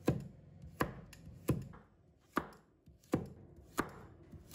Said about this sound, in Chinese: 再准备半条胡萝卜，把它切成片，